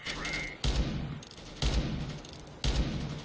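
Three heavy R8 Revolver shots from CS:GO, evenly spaced about a second apart, each a loud thumping blast with a short tail, over steady game background noise.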